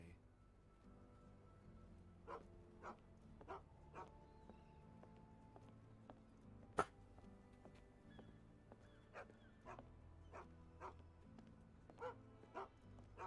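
In the Sherlock Holmes: The Awakened video game, a dog gives repeated short barks at irregular intervals, faint and distant over a quiet ambient bed, with one louder sharp sound in the middle.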